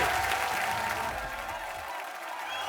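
A studio audience at a comedy show bursts into loud applause welcoming a film director and an actress as guests, the clapping continuous and fading slightly toward the end.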